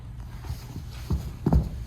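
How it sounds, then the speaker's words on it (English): A heartbeat sound effect in a dark retelling of Little Red Riding Hood: a few low, soft thumps in an uneven rhythm, quiet and close. "Thump, thump, thump. She hears her heartbeat."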